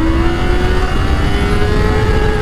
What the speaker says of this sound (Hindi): एक नंबर गियर डालते हैं।